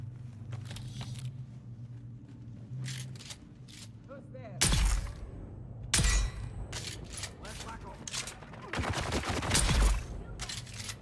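Video game gunfire cracks out in several loud bursts and rapid volleys over a low rumbling background, close and punchy, with quieter clicks and mechanical noise between the shots.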